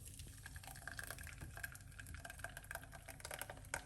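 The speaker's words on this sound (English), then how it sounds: "Pour it out to a strainer" Cucumber drink poured from a container into a strainer, a steady soft trickle and splash of liquid running for a few seconds, fairly quiet and close, with no talking.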